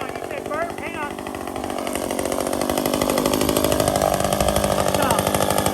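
A chainsaw cuts a door opening through the 2x4-framed wall of a tortoise night house. The saw's engine buzzes loudly and steadily, growing stronger after the first couple of seconds, while people talk over it.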